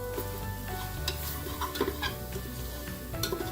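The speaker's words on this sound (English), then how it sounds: "Give everything a quick mix." Spices and beef shank for a garlic pepper masala are stirred in a pot over low heat, a spoon scraping steadily through the mix over a soft continuous sizzle, with a few brighter clicks against the pot.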